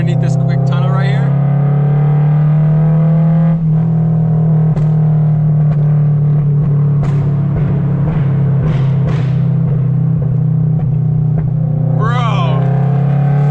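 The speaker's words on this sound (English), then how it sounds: "switch it into the burble tune and see if we can get any pops underneath this quick tunnel right here" Toyota GR86 running a burble exhaust tune, a loud, steady low engine drone heard from inside the car with scattered exhaust crackles and pops, while people talk over it.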